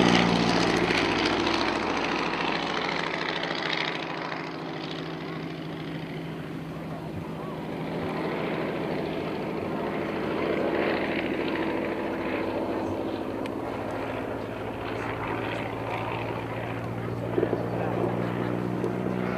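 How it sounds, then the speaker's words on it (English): An Avro Tutor vintage propeller training aircraft drones steadily overhead at an airshow at Shuttleworth, its engine noise filling the air and swelling slightly as it passes, with a faint voice now and then. "Training aircraft this time, the Avro shooter."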